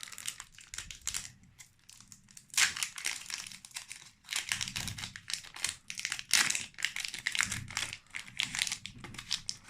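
Pokémon TCG Harmonie des Esprits booster packs being ripped open roughly by hand: a run of close, loud crinkling foil tears and rustles in irregular bursts, alone without talk.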